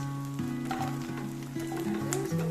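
Paneer pieces sizzling and crackling steadily in hot oil in a pan, a continuous close frying hiss with faint shifting tones underneath.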